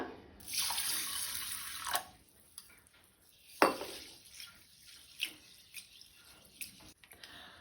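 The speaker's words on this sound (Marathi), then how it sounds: "दाळ आनी तांदूळ 2-3 वेळा उदकान धुवन घेवया।" Rice and moong dal being washed in water in a kitchen: a short burst of running tap water, then splashing, swishing and scattered drips and clinks as the grains are rinsed, close and fairly quiet, no voices.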